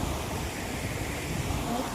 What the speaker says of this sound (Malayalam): ഇതാണ് ഞങ്ങളുടെ കടൽ